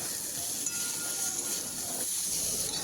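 Steady loud sizzling hiss as stalks for a katla fish curry hit a hot pan of spiced potatoes, continuous and close for the whole moment with no talking.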